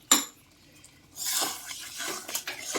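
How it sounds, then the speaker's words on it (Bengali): Water poured into a pot of nearly cooked chicken with spinach, then covered with a lid: a sharp metallic clank, a quiet pause, then a longer splashing, sizzling wash with small knocks, close and moderately loud. "জল দিয়ে আমি এটা চাপা দিয়ে দেবো।"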